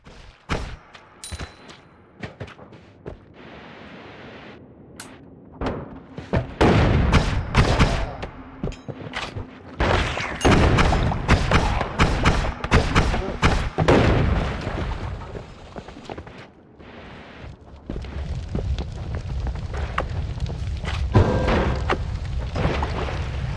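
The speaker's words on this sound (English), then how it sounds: "It's a big bomb. Yep, that's a bomb with Berserkium." Big bomb laced with Berserkium detonating in the Noita video game, a dense chain of heavy booms, pops and crackling blasts rolling on for many seconds, loud and close with no speech over them.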